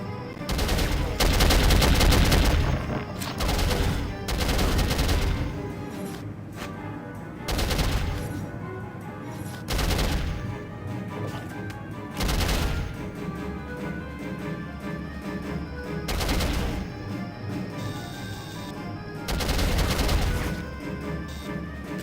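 Loud, close gunfire from the 2000 PC shooter Soldier of Fortune comes in repeated dense bursts of rapid shots and booming blasts, separated by short lulls, with a voice speaking briefly.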